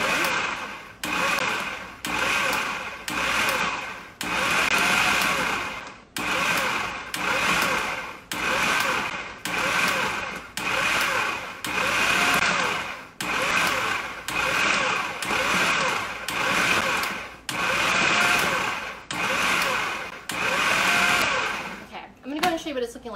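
A food processor pulses butter, vegetable shortening and flour for a pie crust, its motor whirring in regular short bursts with brief pauses between them, loud and close throughout.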